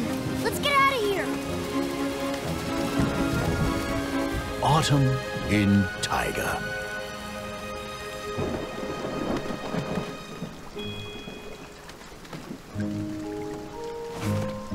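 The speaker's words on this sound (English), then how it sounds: "It's raining. Let's get out of here." Steady rain patters under cartoon music and voices, with a rumble of thunder partway through.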